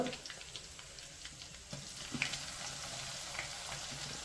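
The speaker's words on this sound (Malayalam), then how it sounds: "ചൂടായ എണ്ണയിലേക്ക് ആദ്യം കുറച്ച് കറിവേപ്പില ഇടാം." Curry leaves sizzle in hot oil for a mutton curry, a steady broadband fry hiss with scattered small pops and crackles, moderately quiet and continuous with no voices.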